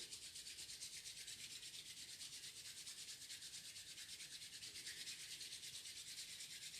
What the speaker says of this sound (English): we'll bring our hands together, give them a nice vigorous rub